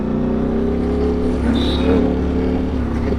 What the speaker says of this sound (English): while you're riding a hot motorcycle like the Ducati Streetfighter V4